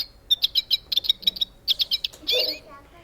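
A bird calls in a string of sharp, high chirps that come in quick clusters, steady and fairly close, ending in a brief harsher burst, heard with no talking.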